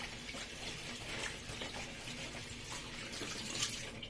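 Moi moi leaves are rinsed under running water at a sink, a steady, faint hiss of flowing water that holds level throughout with no voice over it.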